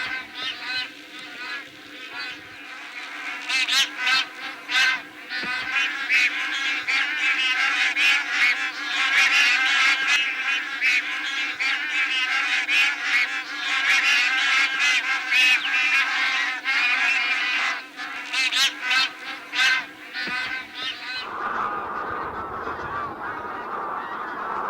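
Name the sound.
bar-headed and greylag geese calling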